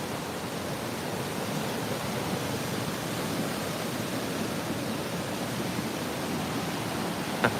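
Flowing water in summer Lapland, Finland, a steady, broadband rushing hiss like a stream or rapids, moderately loud and continuous for several seconds with no speech.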